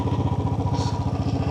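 A motorcycle engine thuds in a fast, even rhythm while riding up the road to Hari Parbat Fort in Srinagar, loud and close, with wind noise over it.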